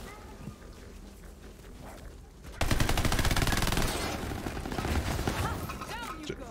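A video game machine gun fires a long sustained burst until it overheats, kicking in abruptly after a quieter stretch, loud, rapid and continuous, with faint background noise before the burst starts.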